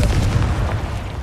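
A Confringo spell explodes in the wizarding game Hogwarts Legacy, a loud, close boom with a heavy low thump that rumbles briefly and then fades.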